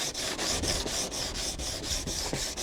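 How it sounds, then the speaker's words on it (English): A sanding block with sandpaper rubs back and forth along the edge of a Sprinter van side flare panel, a close, steady rasping with about a dozen quick rhythmic strokes and no talking. "we're just going to basically sand this edge down a little bit until it fits nicely without any squishing"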